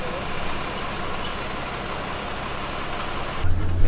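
A bus engine idles with a steady low rumble, close and constant, with a few louder knocks near the end and no talking.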